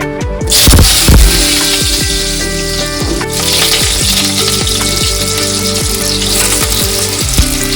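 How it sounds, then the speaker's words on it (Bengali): Potatoes for potol dalna fry in hot oil, a loud, steady sizzle close up, running alone over a humming background with a few soft clinks. "গরম হয়ে গেছে, আলুগুলো দিয়ে দিচ্ছি"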